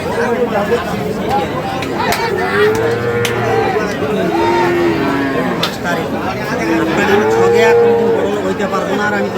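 Sahiwal bulls and other cattle moo repeatedly at a busy rural livestock market, several long calls near and mid-distance over a steady crowd babble and talk throughout.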